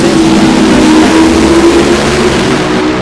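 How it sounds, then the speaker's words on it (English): A top alcohol dragster at a drag strip revs hard in one continuous, loud, dense engine roar with a steady droning tone underneath. "Revs are going to come up sky high on this top alcohol dragster on the tower side"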